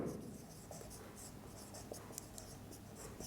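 Chalk or marker scratching out algebra on a classroom board, soft scraping strokes and taps running steadily under faint room noise, with a teacher's voice lightly in the background.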